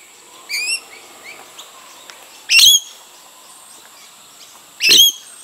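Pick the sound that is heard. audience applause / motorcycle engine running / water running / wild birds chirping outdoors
wild birds chirping outdoors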